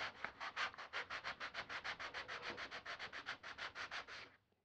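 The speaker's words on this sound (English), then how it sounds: "And then I'll take a sanding block" Steady rhythmic rasping of a sanding block pushed back and forth, about five strokes per second, close and continuous before stopping.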